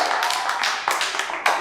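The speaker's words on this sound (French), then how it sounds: "On applaudit très fort pour" A small group claps in a room, a few uneven bursts of hand claps with sharp taps standing out, brief and fairly close.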